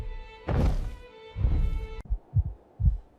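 A heartbeat sound effect under a dramatic dinosaur-themed narration: after a swelling musical tone, deep low thuds pulse three times in a slow, steady rhythm, loud and close.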